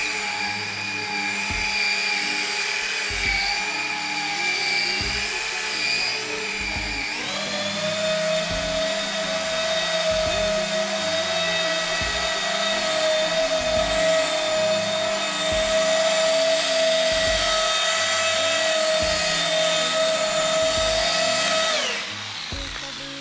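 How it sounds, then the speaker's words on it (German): Machine polisher set to speed 2 working over the paint of a 2020 Audi RS6 during detailing, a steady loud whine with a pitch step upward partway through, running continuously for over twenty seconds before stopping. "Ich habe jetzt hier die Maschine auf Stufe 2."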